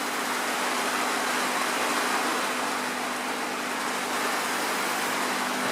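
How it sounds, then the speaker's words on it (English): Steady rain pours outside a home workshop during a DIY zinc electroplating job, a dense even hiss that holds at the same loud level throughout with a faint low hum beneath, no voices. "Goddamn raining, if you're wondering what that noise is."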